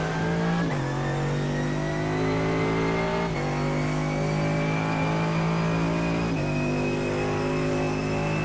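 Mercedes-AMG GT3 race car in the iRacing sim at Mosport, its engine droning loud and steady at high revs with upshift-like steps in pitch, running continuously without talk.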